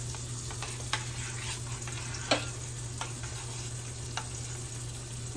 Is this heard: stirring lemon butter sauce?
yes